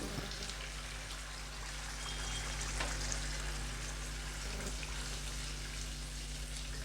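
Green chillies and curry leaves frying in hot oil, a steady close sizzle and crackle with a soft bubbling hiss throughout and no talk.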